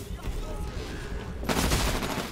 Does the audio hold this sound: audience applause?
no